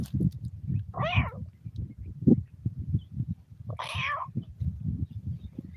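A person imitates a cat meowing: two drawn-out, wavering mews about three seconds apart, standing out over a steady, low, pulsing background.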